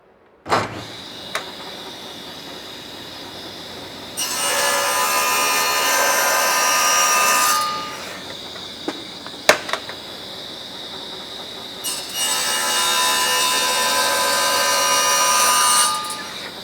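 A hand saw trimming the end of a roof gutter square, two sustained bursts of rapid back-and-forth sawing strokes, close and loud, separated by a pause with a few clicks and knocks.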